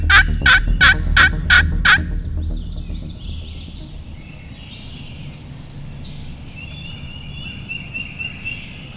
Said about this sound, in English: We got 3 or 4 turkeys gobbling right here.